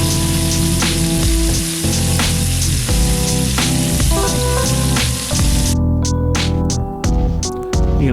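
A ribeye steak fries in a pan with rosemary and lemon, a loud, dense sizzle with crackling pops running steadily throughout and no talking.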